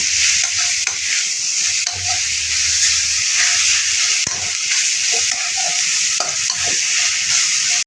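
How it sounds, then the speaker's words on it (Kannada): Fenugreek pods (methi) fry with garlic in a pan, giving a steady loud sizzle and hiss with intermittent scraping stirs and light clinks throughout, with no talking. "ಮೆಂತ್ಯ ಕಾಯನ್ನು ಈ ಥರ ಬೆಳ್ಳುಳ್ಳಿ ಹಾಕಿ ಈ ಥರ ಮೆಂತ್ಯ ಫ್ರೈ ಮಾಡ್ಕೊಳ್ಳಿ"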